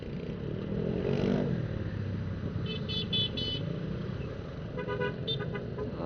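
Heavy road traffic jammed at a red light at Warung Jambu, heard from a rider on an electric motorcycle: a constant engine and tyre rumble with several short car horn toots sounding nearby.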